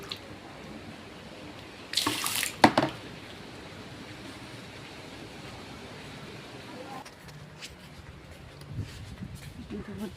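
Water pours from a tap into a drum in a village setting, a loud gushing burst around the second and third seconds, then a softer steady running flow with faint background noise.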